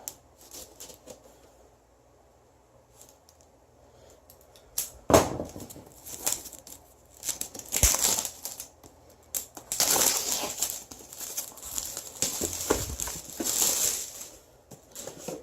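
A knife or blade slices through the shrink wrap and cardboard of a Castles of Caladale board game box, giving close, scratchy cutting and crinkling bursts, quiet at first and then louder and more frequent.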